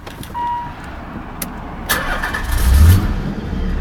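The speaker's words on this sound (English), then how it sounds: "The car, of course, without fail starts on the button with the engine immobilizer switched off" A Nissan 300ZX fires up on the first press of the button: a short starter whirr, then the engine catches with a low thump and settles into a steady idle close by.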